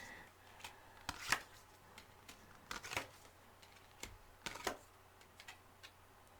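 Playing cards drawn from a deck and handled, scattered soft flicks and taps at irregular intervals, close but faint against a low hum.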